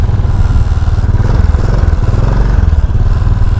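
A Royal Enfield 535 Continental GT single-cylinder engine runs just after being kick-started, a close, loud, thumping idle with a steady rhythmic pulse.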